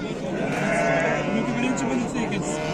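Sheep bleat loudly and repeatedly at a busy livestock market, their overlapping cries mixed with crowd chatter and people talking close by.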